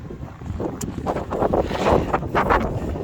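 Strong Arctic wind gusting across a snowy, cleared street in Iceland, a rough rushing roar buffeting the microphone and swelling in surges.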